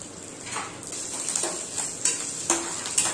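Mustard seeds, cumin, chana dal, curry leaves, dried red chillies and garlic tempering in hot oil for an Andhra sambar, with light sizzling and sporadic crackles and pops alongside faint clinks of a spoon against the pan.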